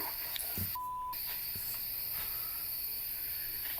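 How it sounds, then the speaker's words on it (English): A K2 EMF meter gives a single steady electronic beep lasting about a third of a second, over a hissy, noisy background during a ghost investigation. "they start to pick up some very bizarre K2 EMF readings"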